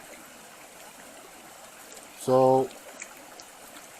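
Rainwater flows steadily out back after three days of rain, a continuous soft wash of running water. A person briefly says a word partway through.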